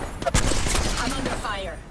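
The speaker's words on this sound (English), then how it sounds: "I'm taking fire." Bursts of rapid gunfire in the Apex Legends video game, loud and close, with a character voice speaking over the shots.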